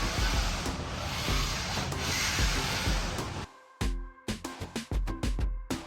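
Hand rubbing presses vinyl flooring onto glued plywood on a pontoon deck, repeated close scraping strokes in a steady back-and-forth rhythm that turn into shorter, choppier swipes toward the end.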